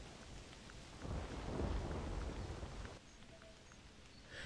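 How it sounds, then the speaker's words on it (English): Steady heavy rain in a video-game rainforest setting, with a deep rumble of thunder swelling in the middle, then fading back to the rainfall alone. "Wow, it's really raining."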